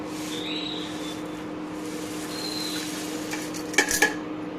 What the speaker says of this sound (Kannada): ಇವಾಗ ಒಂದು ಕುಕ್ಕರ್ ಇಟ್ಬಿಟ್ಟು ಕುಕ್ಕರ್ಗೆ ಸ್ವಲ್ಪ ನೀರು ಹಾಕಿ ಅದಕ್ಕೆ ಹಾಕ್ತಾಯಿದ್ದೀನಿ